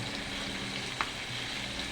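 Steady, close sizzling of onion, garlic and ginger frying in hot oil, a continuous crackly hiss with a faint clink near the middle.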